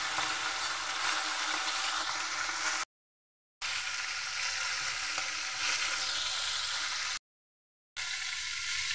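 Prawns marinated in salt, turmeric and lemon fry in hot oil in a wok, giving a loud, steady sizzle with light stirring, cut by two short silent gaps.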